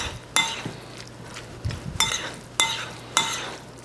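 Salmon tartare being mixed with added salt, a utensil scraping and clinking against a bowl in several sharp strokes at an irregular rhythm, close and fairly quiet over a low steady hum.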